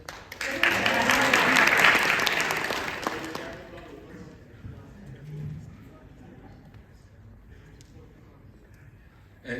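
Audience applause at an AWS hackathon demo session, loud and sustained for about three seconds before fading into a quieter room where a voice speaks faintly.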